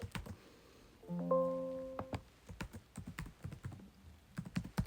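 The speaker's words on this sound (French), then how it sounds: "J'écris mon petit mot de passe secret." A computer keyboard being typed on up close: a quick run of crisp, irregular key clicks, briefly joined by a short electronic chime partway through.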